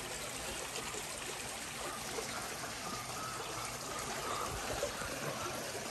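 Water from a small stream near a rural house trickles and gurgles in a faint, continuous flow with no talking.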